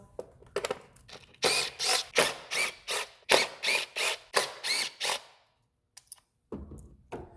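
Ratchet with a 10 mm socket working a bolt loose on a 2016 Honda Civic 2.0 L four-cylinder engine: a close run of about a dozen quick, even ratcheting clicks in bursts, then a pause and a few faint knocks.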